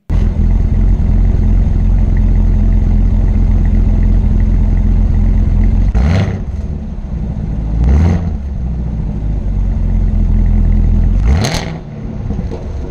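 A 2017 Camaro ZL1 in sport mode idles with a deep, steady rumble, then three sharp throttle blips rev the engine loudly and throatily at about six, eight and eleven seconds, each dropping back to idle.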